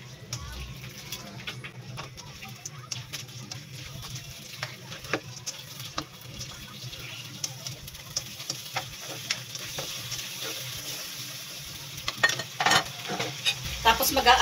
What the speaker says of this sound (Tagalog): i-add na natin ang ating shrimp. Or ang ating sugpo. Haluin lang natin.